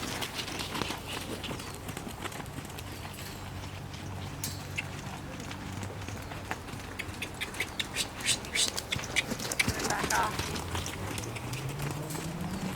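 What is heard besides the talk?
horse hooves trotting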